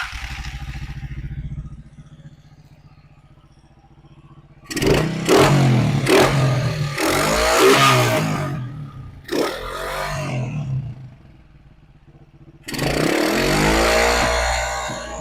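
A motorcycle engine with a balance shaft, assembled in a workshop, cranks over and starts, then revs up and down in several loud, close bursts with idle between.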